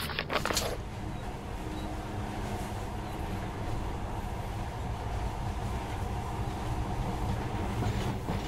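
A monorail train in the video game Metro Last Light Redux runs with a steady, continuous rumble and faint clatter, a brief sharp knock at the start, then an even drone throughout.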